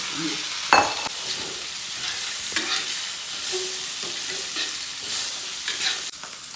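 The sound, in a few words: stir-frying dried radish with cured pork in wok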